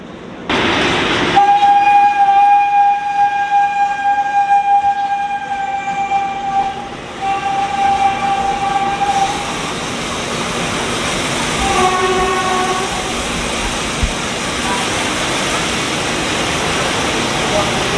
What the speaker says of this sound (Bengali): এরকম ধরনের মালগাড়ি কিন্তু আমি আগে দেখিনি